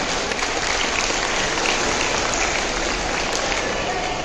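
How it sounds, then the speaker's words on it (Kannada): An audience applauds children after an abacus demonstration, dense steady clapping from many hands filling the room, loud and continuous throughout. "ಚಪ್ಪಾಳೆ ಮೂಲಕ ಅವರನ್ನು ಪ್ರೋತ್ಸಾಹಿಸಬೇಕು ಅಂತ ಹೇಳ್ತೀನಿ"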